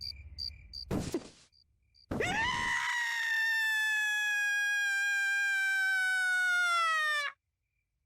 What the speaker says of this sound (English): that was quite a scream.